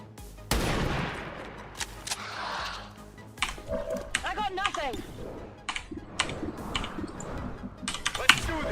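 Gunfire in the XCOM video game: sharp bursts and volleys of shots scattered through the clip, loud and close, with a voice talking over parts of it.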